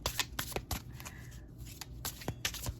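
A tarot deck is loosely shuffled close up, with quick riffling flutters and soft card slaps in irregular bursts, fairly quiet and with no talk.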